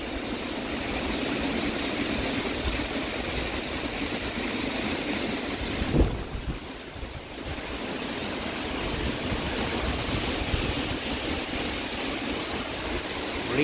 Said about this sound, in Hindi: तूफान आया बड़ा ज़बरदस्त.